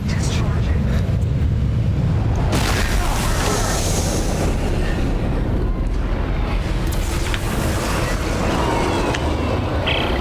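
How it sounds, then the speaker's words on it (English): Explosions in the sci-fi horror game Dead Space 3, a continuous heavy rumbling roar with deep booming blasts and a shaking, grinding din that fills the whole stretch, loud and dense throughout. "Explosions!"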